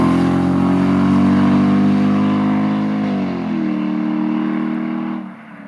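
A Jaguar XJ8 with its entire exhaust cut off roars loud and close as it accelerates, the deep raspy drone climbing smoothly in pitch, easing at a gear change, then fading out at the end.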